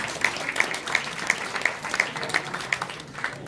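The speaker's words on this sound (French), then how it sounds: "Vos applaudissements," Applause from the audience at a cycling club's season presentation, fairly soft and thin, with a regular series of louder, sharper claps standing out over a diffuse patter.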